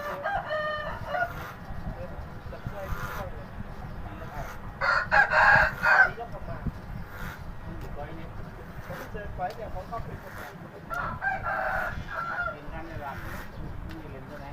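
Roosters crow in the background among chickens and ducks in rural Thailand, with one louder crow mid-clip and a fainter one later, while someone talks in Thai over a low rural hum.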